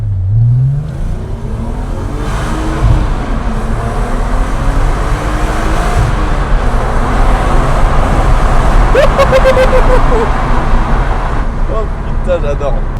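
A Volkswagen car engine revs hard and steadily for the whole stretch, a loud continuous roar with rising and falling pitch, heard up close on a mountain road.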